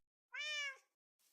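A single short, clear Minecraft cat meow, high and tonal, sounds against silence, followed by a faint brief noise.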